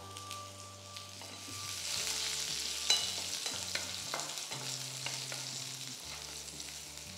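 Curry leaves and spices sizzle steadily in a hot frying pan, close and bright, with scraping stirs and a sharp pop near the middle, all under soft background music.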